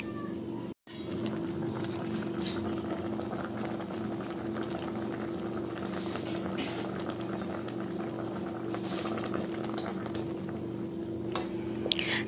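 Fish sinigang with pechay bubbling steadily in a covered pot, a continuous close boiling burble with occasional soft pops.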